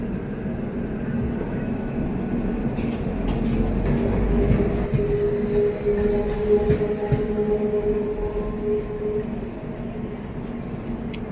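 The Mysuru–Kochuveli Express (16315) pulls out and rolls along, heard from inside as a steady loud rumble with rising wheel and motor drone, faint clanks and a thin high whine.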